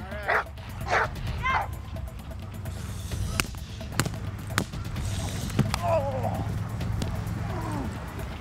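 A muscular pit bull protection dog barks in short, loud bursts during bite-suit training, with heavy thuds and scuffling between barks as a person speaks nearby.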